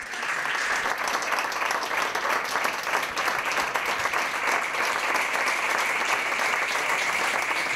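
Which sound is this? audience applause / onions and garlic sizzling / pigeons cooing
audience applause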